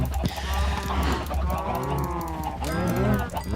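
Minecraft cows lowing in overlapping game calls, a steady cluster of moos under a busy background with a brief swell near the end.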